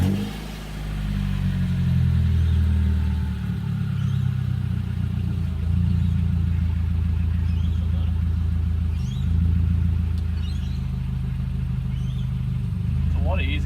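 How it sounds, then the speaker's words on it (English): A 1998 Mitsubishi Lancer engine idles steadily and close by, a continuous low rumble lasting the whole stretch with faint clicks and a brief rise near the end. "just gonna turn the car on for a little bit, let it run real quickly"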